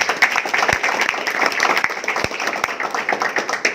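Audience applause at a Surabaya community meetup honoring a director who drove from Jember, a steady dense patter of clapping with a few sharper individual claps standing out, moderately loud and continuous throughout.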